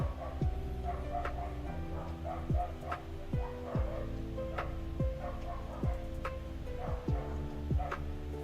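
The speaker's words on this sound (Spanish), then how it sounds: "Y disculparán los perritos ladrando." Several dogs bark repeatedly in a residential neighborhood, the barks sharp and moderately distant, recurring every second or so over a steady background hum with faint ticking.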